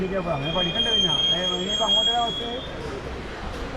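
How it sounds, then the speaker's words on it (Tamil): The Tambaram to Thalassery express rumbles along its rails after pulling out of a station, a steady rolling train noise with high squealing tones, while someone talks over it throughout. "கேலிக்கட்டில் இருந்தும் இப்போ ட்ரெயின் ஸ்டார்ட் ஆகிடுச்சிங்க."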